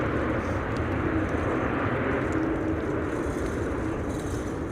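A Lufthansa airplane lands at windy Amsterdam Schiphol Airport, and its engine noise forms a steady, fairly loud rumbling roar that fades slightly toward the end, heard without speech.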